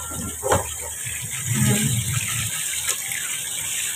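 Tap water runs and splashes as fish is rinsed clean under a faucet, a steady close gush broken by a few sharper splashes and sloshing bursts.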